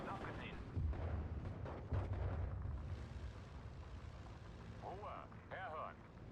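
Bombing-run explosions in the video game Steel Division 2, two deep, heavy blasts rumbling out in quick succession with lingering battle noise, while someone talks over the action.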